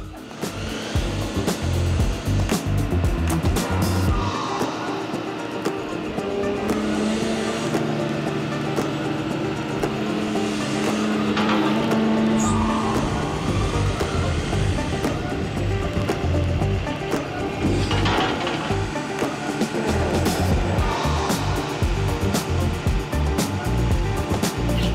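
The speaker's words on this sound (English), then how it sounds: "As soon as you go, it revs right back up again." The diesel engine of a Sennebogen 825e scrap handler runs with a deep, continuous rumble that rises and falls as it revs, mixed with hydraulic whine and mechanical clatter, and no voices.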